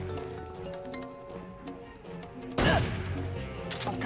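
A gunshot in the stealth action game Metal Gear Solid 3 cracks out sharply midway, following a stretch of quiet in-game ambience and background music, with a noisy tail after the shot.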